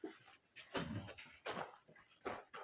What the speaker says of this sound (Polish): Widzisz, tam jest zagroda psów.